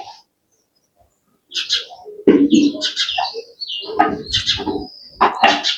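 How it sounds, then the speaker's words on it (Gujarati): A small bird, a sparrow, chirps in short bright bursts close by after a quiet opening, with brief calls scattered across the clip, while a voice is also heard. "એટલે આવું આ ચકલું ચીચી"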